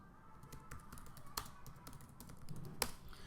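Light tapping on a computer keyboard while a command is entered in a terminal, scattered soft keystrokes with a few sharper clicks, quiet and close.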